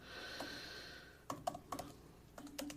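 Clicky keys tap on a computer keyboard in a short irregular burst after a quieter hum, the keystrokes close and fairly faint, with no talking.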